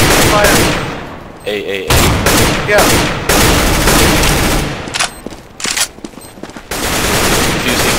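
Counter-Strike: Global Offensive gunfire, with loud close bursts of automatic rifle fire and single shots in rapid clusters separated by brief gaps, while players' voices come in briefly between shots.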